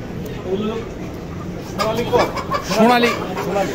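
Chickens cluck at a poultry stall in Dhaka's New Market, with short bird calls mixed into a busy bustle of nearby talk and market noise.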